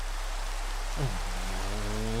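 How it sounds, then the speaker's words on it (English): Steady rain hisses evenly in the video game RimWorld, a soft continuous wash, and a voice speaks briefly over it partway through. "We don't need the rain."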